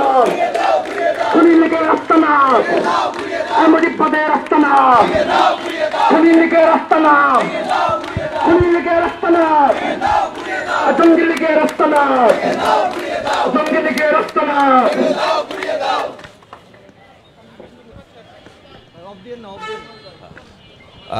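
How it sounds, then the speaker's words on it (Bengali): Dhaka College students chant slogans in a loud, rhythmic crowd at a protest, voices rising and falling together in repeated calls before the chanting drops away near the end. "ঢাকা কলেজের শিক্ষার্থীরা বিভিন্ন স্লোগান দিচ্ছে শেখ হাসিনার রায়ে সর্বোচ্চ শাস্তির দাবিতে"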